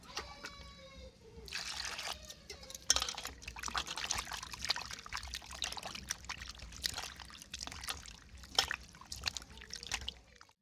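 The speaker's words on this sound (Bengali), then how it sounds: "সবজিগুলো কেটে নিয়েছি, টমেটো আর আলু। এখন ধুয়ে নিচ্ছি ভালো করে" Cut potatoes and tomatoes are rinsed under running water in a kitchen, with steady pouring and trickling splashes close by, sometimes choppy as the pieces are moved around.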